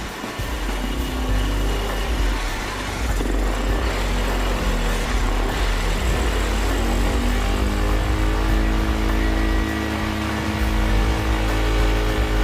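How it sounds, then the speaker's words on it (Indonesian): A fuel-injected motorcycle engine runs loud and close, held at high revs during injector cleaning, a continuous buzzing roar with slight rises and dips in pitch throughout. "hidupkan sepeda motor, putar handle gas sampai RPM tinggi"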